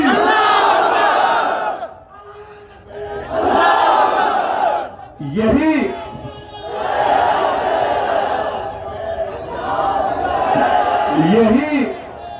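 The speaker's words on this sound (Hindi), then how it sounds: "तो जोर से नारा लगाइए, नारे तकबीर" A large crowd at a political rally in Jaunpur roars the slogan Nara-e-Takbeer in loud repeated bursts, answering a lone voice that calls out between the group shouts.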